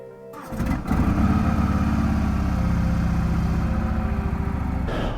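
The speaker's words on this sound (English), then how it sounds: "Bike is all warmed up." A motorcycle engine warming up on a cold winter day catches after a brief start, then settles into a loud, steady close-up idle that runs evenly to the end.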